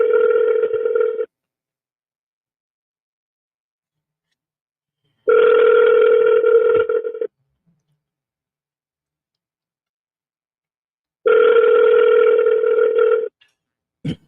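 An unanswered telephone ring tone repeating in three loud, even bursts separated by long silent gaps, ending with a brief click.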